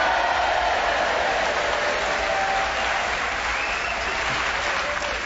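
A theatre audience at the White Rock Theatre in Hastings applauds loudly and steadily, a dense wall of clapping that holds at full strength for several seconds.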